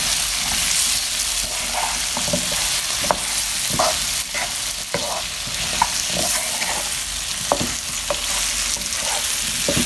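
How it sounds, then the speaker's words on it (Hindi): Spices with turmeric frying in a pan for an aloo methi dish, a loud continuous sizzle with repeated scraping stirs and clicks of the utensil throughout. "ये डाल के हम अच्छे से इनको मिक्स कर लेते हैं ताकि ये जो मसाले डाले हैं हल्दी समेत सारे अच्छे से भुन जाए"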